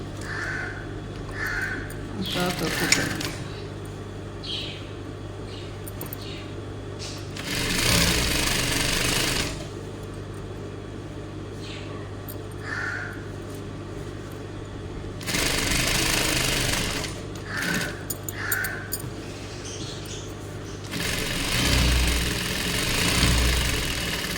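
A sewing machine stitches a seam alongside in three or four loud, rattling bursts of a few seconds each, with crows cawing now and then in the background between runs.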